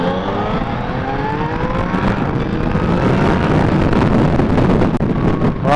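A new Yamaha Niken three-wheeled motorcycle with a quickshifter pulls hard, its engine note climbing steadily through the revs under a constant roar of wind buffeting the microphone, with no talking.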